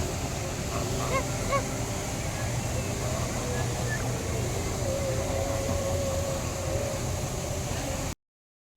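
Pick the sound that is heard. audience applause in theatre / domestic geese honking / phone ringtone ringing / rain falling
domestic geese honking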